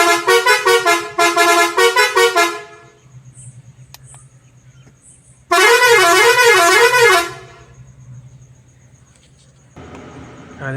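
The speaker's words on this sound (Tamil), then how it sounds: "இப்போ ஹார்ன் அடித்து காமிக்கிறோம்." The air horn on a Mahindra BS6 truck sounds close and loud. Two bursts of bright multi-tone honking come first, then a warbling, changing-tone blast, with quieter vehicle hum between them and a short burst starting at the end.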